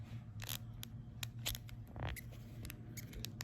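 A stout PCGS plastic coin slab squeaks and scrunches as it is handled up close, giving a string of sharp crackling clicks and creaks in irregular rhythm.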